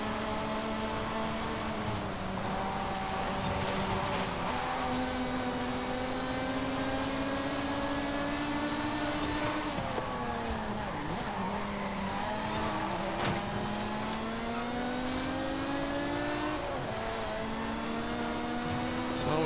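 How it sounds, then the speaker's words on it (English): Lotus Emira engine in the racing game Forza Horizon 5, droning steadily with rising and falling pitch as the car accelerates and shifts, a continuous mechanical hum heard alone without talk. "Yeah, I really do enjoy driving this car. Its engine is a little bit highly strung for my ears"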